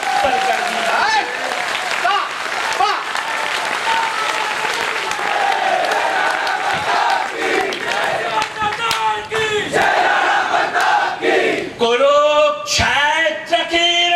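A crowd at an open-air poetry gathering claps loudly and at length. Cheers and shouted slogans swell through the applause, and strong chanting voices rise near the end.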